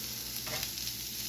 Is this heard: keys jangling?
no